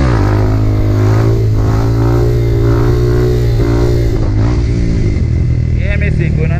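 A motorcycle engine revs during a wheelie attempt, a loud close mid-pitched drone rising and falling in pitch over repeated throttle swells, with voices talking over it.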